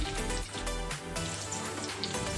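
Onions sizzling in a pan while cooking raw mango chutney, a continuous crackling fry with no one speaking.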